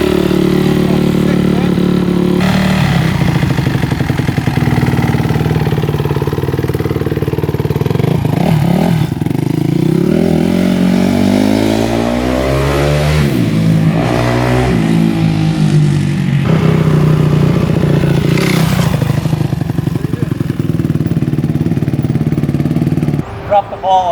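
A 2010 Honda CRF250R dirt bike engine runs loudly and steadily after a kick start, its revs rising and falling in a dense rumble throughout, with voices faintly underneath.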